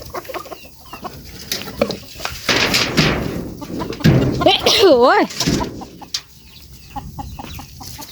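Chickens cluck and squawk as they come out of a coop in the morning, a burst of loud, overlapping calls in the middle, with a person speaking and exclaiming nearby.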